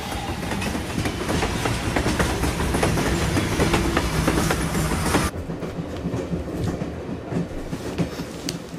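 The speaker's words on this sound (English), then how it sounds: "I wonder how long that train ride is for him." Train ride in the video game Persona 4 Golden, a steady rolling rumble with clickety-clack wheel rhythm that drops sharply in level partway through, then continues quieter, with no talking.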